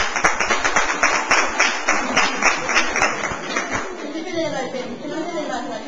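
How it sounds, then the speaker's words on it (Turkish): Children in a classroom clap for a classmate, a rhythmic burst of sharp, fairly close hand claps that fades into children's chatter and talk. "Hadi çocuklar, arkadaşımızla beraber alkışlayalım"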